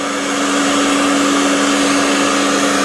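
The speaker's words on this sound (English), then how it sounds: "I thought the grinder was still running, but it's the vacuum making all the noise" A vacuum cleaner runs steadily in a workshop where a surface grinder was just used, giving a loud, continuous whirring roar with a strong steady hum that holds without a break.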